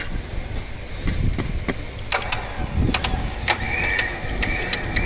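A vehicle stuck in mud in a remote spot, engine starting and settling into a steady idle, with mechanical clicks and knocks over a continuous rumble.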